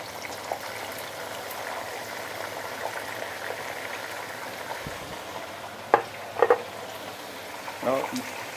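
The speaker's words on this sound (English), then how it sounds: "I'm putting the veggie. I'll deep fry everything besides the red chili." Vegetables deep frying in hot oil in a wok over high heat, a steady bubbling hiss throughout with a few sharp clatters and clinks of utensils near the end.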